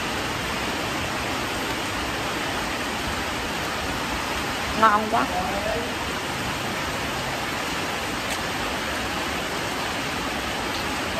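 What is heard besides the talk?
heavy rain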